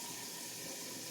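A tap left running in a steady stream into a bathroom sink to keep pipes from freezing during a Tennessee winter storm, a continuous even hiss of flowing water, close and alone.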